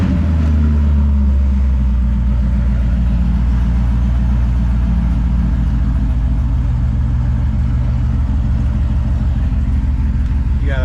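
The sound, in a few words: 2013 Corvette Grand Sport car engine starting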